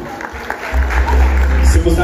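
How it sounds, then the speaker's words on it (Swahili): An audience at a memorial service claps together in a burst of applause that swells and continues, heard after brief talk from a speaker. "wapigeni makofi mazuri"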